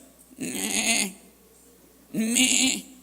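A voice imitates a sheep bleating: two drawn-out, wavering bleats, close and fairly loud, separated by a short pause.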